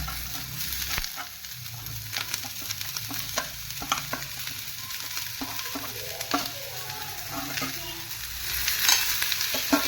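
Cashews and coconut fry together in a pan for a baby jackfruit gravy, with a continuous close sizzle broken by frequent spoon scrapes and stirs, and no one speaking.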